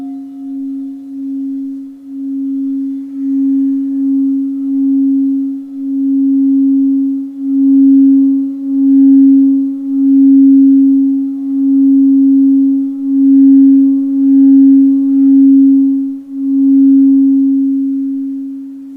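A steady sine-like tone, the Earth's 7.83 Hz resonance multiplied up into the audible range, hums continuously with a gently pulsing swell for about nineteen seconds, clear and alone with no voices.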